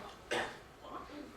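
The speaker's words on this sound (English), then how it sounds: "He's coughing." A man gives a single sharp cough near the microphone, followed by softer throaty sounds in a quiet room with people talking.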